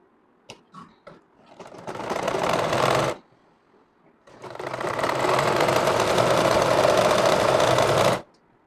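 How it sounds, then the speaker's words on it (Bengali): A sewing machine stitches a frock in two sustained runs, a shorter one and then a longer one, loud and close, with a few clicks of handling before the first run and a quiet gap between them. "এই সাইডটাও সেলাই দিয়ে দিবেন"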